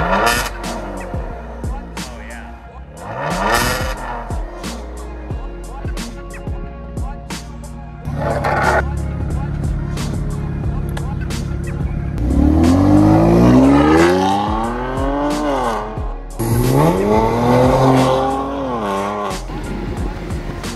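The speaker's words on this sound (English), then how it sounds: "Papa, why don't you give us a little startup?" A 2022 Kia Stinger with an aftermarket Borla exhaust starting and revving, loud engine bursts with rising and falling pitch sweeping through several sharp revs, heard up close.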